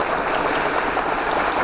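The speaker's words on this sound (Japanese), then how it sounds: "皆様からも盛大な拍手でお答えしていただきたいと思います" Applause at a press club event honoring a former US Deputy Secretary of State: a dense, steady burst of many hands clapping together, loud and continuous throughout with no talk over it.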